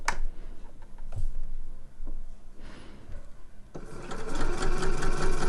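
A sewing machine stitches a gathered bodice panel along a 1.5 centimetre seam line. Scattered handling clicks and soft knocks come first, then the machine starts up and runs with a steady, dense whir to the end.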